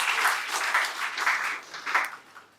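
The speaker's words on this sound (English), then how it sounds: "Another round of applause for Emmanuel, ladies and gentlemen." Conference audience applause at an Africa regional conference of the Duke of Edinburgh's International Award Foundation, a dense round of clapping in swelling waves that fades toward the end.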